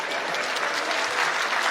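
Sustained applause from women in the audience at a political rally speech in Khajuraho, a dense steady clatter of clapping hands filling the space without pause and with no voices over it.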